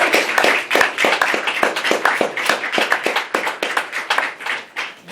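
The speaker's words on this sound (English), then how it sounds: "Give him a big clap." An audience claps for Brendan Cassidy at a festival launch night, a dense burst of many hands with sharp individual claps standing out, steady and loud before easing off at the end.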